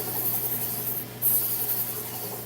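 A knife edge is swiped twice across a sharpening surface to cut the burr and set an apex bevel, giving soft, faint rasping strokes with a slightly louder second pass.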